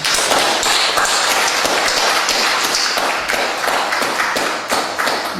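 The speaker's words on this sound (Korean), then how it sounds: "격려의 박수 한번 드리겠습니다" Church congregation applauding in encouragement during a Sunday family worship service, a dense, steady wash of many hands clapping, loud and sustained throughout without pause.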